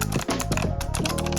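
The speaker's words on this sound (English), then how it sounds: "I would recommend a mechanical keyboard" Rapid clicky typing on a mechanical keyboard, a dense run of sharp close-up key clacks with no pauses.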